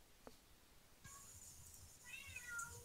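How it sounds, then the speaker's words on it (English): A pet cat meows twice at moderate distance in a quiet indoor room, the second call longer and rising, with no talk over it. "Sorry about my cat."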